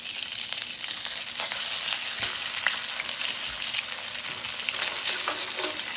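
Chicken sizzling in a frying pan after being flipped, a loud, continuous crackling fry with small pops, close and steady with no talk.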